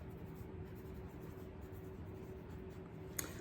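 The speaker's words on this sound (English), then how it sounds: "Let me write the song down." A pen or pencil scratches across paper as a song is jotted down by hand, a soft continuous scribbling close by and quiet, ending with a small tap.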